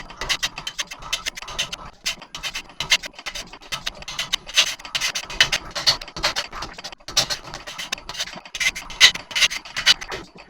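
Bowl gouge cutting an oversized walnut log spinning on a wood lathe, a continuous close scraping and rasping with a rapid, uneven rhythm.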